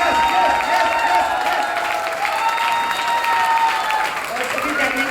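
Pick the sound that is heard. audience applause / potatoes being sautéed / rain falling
audience applause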